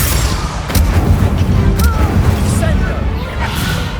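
Combat spell effects from the Hogwarts Legacy video game as the Incendio fire spell is cast, with booming bursts and crackling blasts layered over a dense, loud game soundscape.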